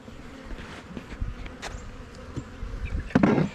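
Honey bees from a swarm settled in a hive with queen cells, buzzing in a dense continuous drone with individual bees zipping close past, louder toward the end.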